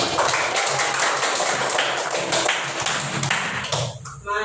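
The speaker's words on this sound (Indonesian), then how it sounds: "Beri tepuk tangan untuk Mbak Imami" An audience in an Indonesian classroom applauds a student, steady dense clapping filling the whole stretch before fading near the end.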